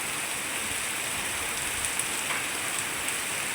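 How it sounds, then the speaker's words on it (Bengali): Heavy monsoon rain pours down all day, a dense, loud, unbroken hiss that fills the air with no voices. "কীরকম বৃষ্টি করছে সারাদিন বৃষ্টি বৃষ্টি বৃষ্টি"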